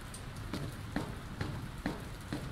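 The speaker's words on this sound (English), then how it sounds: "I don't think it's supposed to still be raining" Rain falls in the Dr. Langeskov video game as a faint, steady patter. Soft drips and taps recur at a regular pace.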